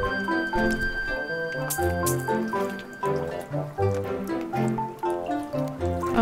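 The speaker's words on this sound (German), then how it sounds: "Jetzt blubbert's da, oder was? Schön warmes, lauwarmes Wasser." Lukewarm bath water bubbles in the video game Candle, a continuous wet gurgling and squishing with rhythmic drips over a soft musical background.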